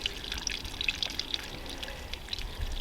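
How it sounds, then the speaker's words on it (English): Quiet, steady trickle of soapy water draining out of an IBC water tank, with scattered small drips, fairly faint, no voices. "So that's the soapy water draining out."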